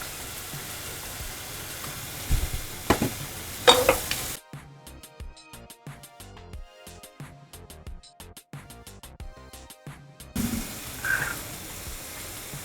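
Asafoetida, turmeric and chili powder hit hot oil for a Vidarbha-style ukadpendi, giving a loud hiss and sizzle with stirring clatter, dipping to a quieter crackle before the sizzling flares again at the end.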